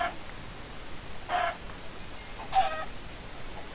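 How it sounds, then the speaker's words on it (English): Chickens in a video game give two short, faint clucking calls about a second apart over a quiet hiss, with no talk. "Why am I not killing the chickens?"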